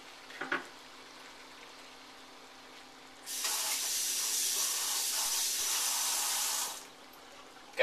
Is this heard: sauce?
yes